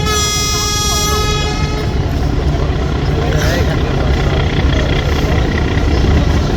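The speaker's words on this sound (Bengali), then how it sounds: "এই জন্য হরেন দিয়া সংকেত দিচ্ছে পোয়ালিকে" Launch MV Kuakata 2 blasts a loud, sustained horn while overtaking another launch on the river, the steady tonal honk lasting about two seconds before fading into heavy engine and wind noise.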